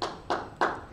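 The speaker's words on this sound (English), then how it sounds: "Don't clap for me, clap for Django." Clapping at a Python programming meetup after a live demo, a few sharp, separate claps spaced evenly about a third of a second apart, near and fairly quiet, with no talk.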